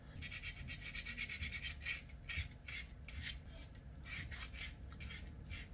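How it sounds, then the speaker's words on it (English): Violin pegs being sanded by hand with sandpaper, a steady close rasping scrape in repeated back-and-forth strokes, alone with no talk. "I am going to sand them. As usual, I am going through the different grades of sandpaper."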